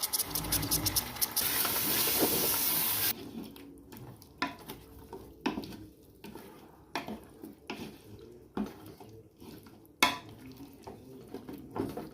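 Tomato and yogurt tipped into a pan of frying ginger garlic for chicken biryani: a loud burst of sizzling at first, then subsiding into scattered scrapes and clinks of a spoon stirring against the pan, with no talk.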